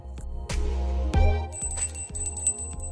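A small bell hanging in a pet's cage jingles in a few quick, light rings as the animal nudges it with its nose, close and clear against a quiet room.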